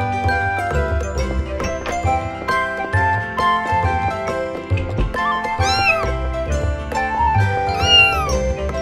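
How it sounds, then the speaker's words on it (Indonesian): A pet cat meows inside a horror video game, a few high wavering calls over steady game music with jingly tones. "Sweetie, kamu emang kucing manis kesukaanku."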